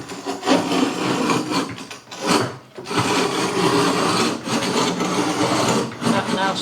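A Wondermill Junior Deluxe Plus grain mill grinds steadily with a loud, continuous rasping roar that dips briefly about two seconds in before resuming at full strength.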